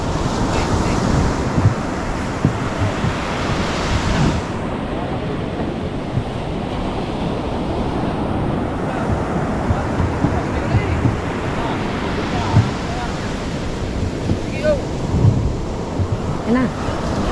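Ocean waves and surf rolling onto a shore at dusk, a steady, loud, unbroken roar of breaking water with wind buffeting the microphone throughout.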